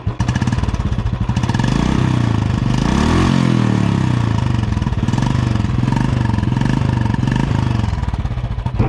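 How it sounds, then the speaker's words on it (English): A Royal Enfield Classic 350 motorcycle in gunmetal grey starts up close by, then settles into a loud, steady single-cylinder thump at idle with an even, rhythmic exhaust beat. "So this is the startup sound of this vehicle"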